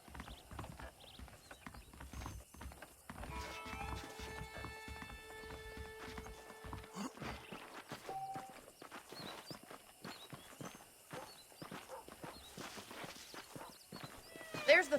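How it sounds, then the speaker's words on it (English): Horses in the Red Dead Redemption game clip-clop at a steady walk with an occasional whinny, set against soft ambient music, while a character's voice talks over the hooves. "The horses are saddled up over here."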